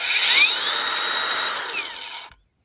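A Mellif cordless angle grinder running on DeWalt 20 volt batteries at speed setting 3 gives a loud, steady high-pitched whine that holds for about two seconds before cutting off abruptly, with no talk.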